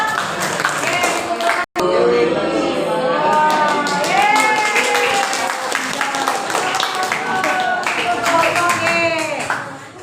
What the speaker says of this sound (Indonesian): Kita beri tepuk tangan semuanya dari yang bertanya.